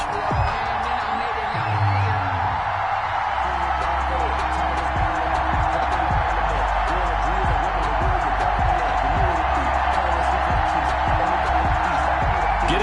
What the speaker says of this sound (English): This crowd is ready as their guys get set to match up between the Pittsburgh Steelers and the Carolina Panthers.